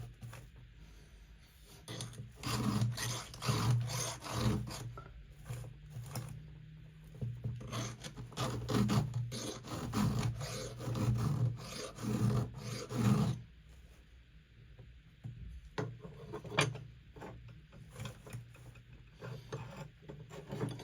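A chainsaw chain is sharpened by hand with a file, giving close, repeated rasping strokes in a steady rhythm with short breaks between passes.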